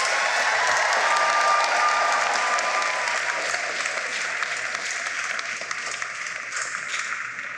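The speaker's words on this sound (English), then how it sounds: "Graduates, let's give them a round of applause." A commencement ceremony crowd gives a sustained round of applause for graduates' friends and family, dense clapping filling a large hall and slowly thinning over several seconds.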